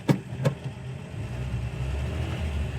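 A 1955 Chevy 210 engine idles steadily at a stop sign, a low continuous rumble close by, with two brief sharp knocks near the start.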